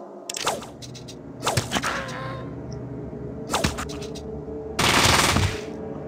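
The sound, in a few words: SMG gunfire in the video game Fallout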